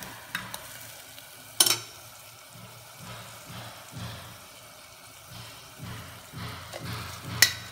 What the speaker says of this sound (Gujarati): એ મસાલાને થોડી વાર શેકાવા દઈશું.